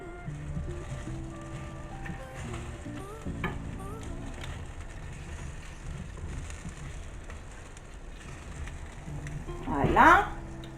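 Chicken with bacon and mushrooms sizzles steadily in a pan while being stirred, with a soft continuous crackle, background tones and a brief louder scrape near the end.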